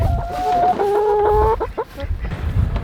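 Chickens clucking and calling nearby, one drawn-out tonal squawk followed by shorter clucks over a busy farmyard background.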